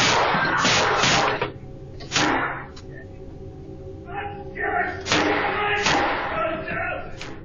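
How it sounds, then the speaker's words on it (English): Gunfire exchanged between police and a man, picked up on a doorbell camera as a series of sharp loud bangs and thuds spread over several seconds, with voices in between. "When police arrive, Jeffrey and the officers exchange fire"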